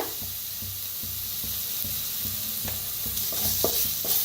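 Vada pav potato filling with turmeric fries in a little oil and is stirred in a steady rhythm of scrapes and taps against the pan. A constant sizzle sits under the strokes, close and fairly loud.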